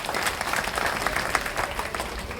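An audience at a devotional religious gathering claps loudly for the women who served food, a dense, continuous round of applause close by that holds steady from start to finish.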